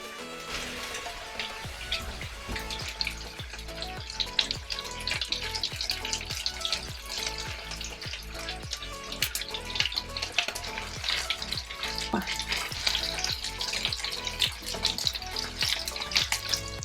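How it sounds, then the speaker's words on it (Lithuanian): Meatballs fry in a little oil in a pan, giving a steady crackling sizzle with quick repeated pops and spits at close range throughout, alone and without any voices. "Dedame kept kukulius."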